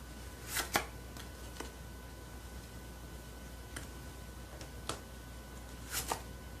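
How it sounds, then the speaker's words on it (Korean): Tarot cards being shuffled and drawn: soft, sparse card flicks and taps, a few quick pairs spaced across several quiet seconds, close and faint with no talking. "3번 여러분들 현재 상황 카드 뽑아보고요"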